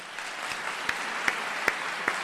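Applause sound effect dropped into a tech podcast: a steady bed of crowd clapping at moderate level, with a few sharper individual claps popping out roughly every half second.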